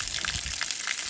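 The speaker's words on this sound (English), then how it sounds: "So the water is coming at a good, very high pressure" Water gushing hard from a gravity-fed pipe off a hillside tank on a cattle ranch, a close, steady high-pressure hiss and splash with no pause.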